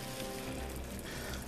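Ground beef for hamburger fries in a pan, giving a faint, steady, crackling sizzle with no talk over it.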